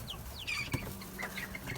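Aggressive Barred Rock chickens cluck and squawk nearby, several short rising calls scattered over a low farmyard background, with one sharp knock partway through.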